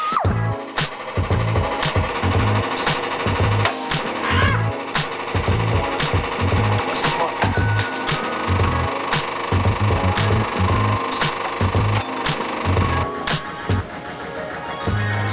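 A power tool cutting a small slice off the welded steel sidewall of a homemade backhoe excavator boom, a loud continuous grinding and rattling whine with sharp metallic clicks throughout, close and without talk.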